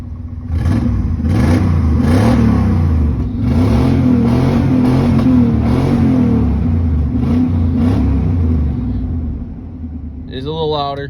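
A worn, clapped-out 1994 GMC K1500 pickup engine rumbles and revs repeatedly with a loud, throaty exhaust tone, close by, ending with a brief high mechanical whine.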